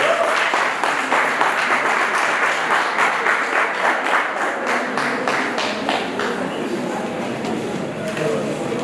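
An audience at a school financial literacy debate claps in a round of applause, loud and close, with sharp individual claps standing out early before the clapping thins slightly toward the end.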